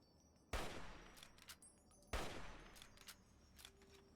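Gunfire in the video game Fallout: Tale of Two Wastelands, aimed at a giant armoured creature. Two sharp, booming shots about a second and a half apart each trail off into scattered smaller cracks and clatter, moderately loud with no talking.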